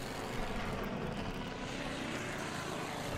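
Aircraft engines drone in the Order of Battle Pacific strategy game, a steady, dense propeller roar that holds loud and unbroken throughout.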